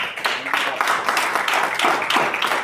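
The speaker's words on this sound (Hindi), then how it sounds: "तालियां जरूर कम है" A seminar audience applauds, a steady crowd of clapping hands lasting a few seconds at moderate loudness with no speech over it.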